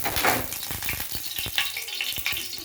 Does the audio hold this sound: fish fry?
yes